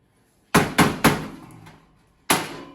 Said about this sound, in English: You put a flathead right here. You use a hammer, whatever you have in your hand. Just knock out there.